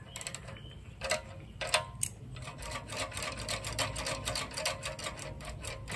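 Metallic ratcheting and clicking while a part is loosened on a cheap minibike engine, a close, busy stream of rapid tool clicks and rattles with no talking.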